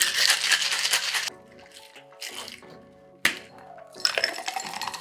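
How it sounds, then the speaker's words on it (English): A cocktail shaker tin packed with ice for a Long Island Iced Tea is shaken hard, loud rattling bursts broken by short pauses and a sharp metallic knock, close up and with no voices. "Give it a good hard shake."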